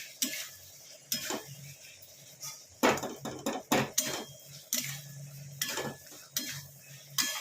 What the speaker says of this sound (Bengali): এটাকে এবার ভালো করে কষাবো, তাতে হলুদের গন্ধও চলে যাবে আর পেঁয়াজ রসুনের কাঁচা গন্ধটাও চলে যাবে